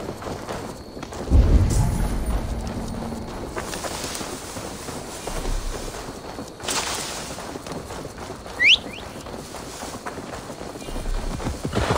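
Hooves of a horse clip-clop in a video game, a soft steady rhythm of footfalls heard at moderate distance over a continuous windy, airy background with one brief louder knock.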